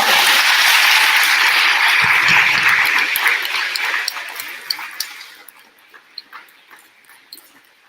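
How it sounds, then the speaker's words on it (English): A crowd at an 8th grade awards ceremony gives loud, sustained applause for award-winning students, then the clapping thins to scattered, fading claps. "Let's give these students a round of applause."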